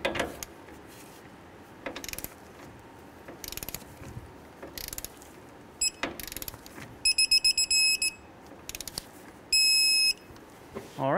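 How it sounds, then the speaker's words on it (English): A torque wrench tightens the tie rod end on a 2003-2011 Honda Element: sparse ratcheting clicks, then rapid bursts of sharp metallic clicking and a brief high ring near the end. "Now we can torque our tie rod end down to 32 foot-pounds."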